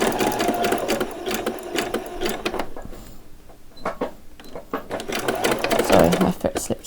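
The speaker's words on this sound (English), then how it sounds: "I'm just going to do a few stitches and I'm going to run backwards" A sewing machine stitches fabric for a skirt, running in steady mechanical bursts. It pauses briefly partway through, then starts up again, close and fairly loud while a person talks over it.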